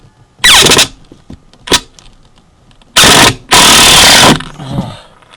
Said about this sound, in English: I'm going to set these screws in back here close to the edge